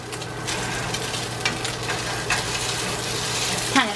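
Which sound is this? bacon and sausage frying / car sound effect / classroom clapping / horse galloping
bacon and sausage frying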